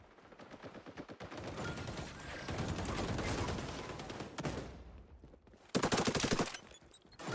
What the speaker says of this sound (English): Is he using a suppressed AK?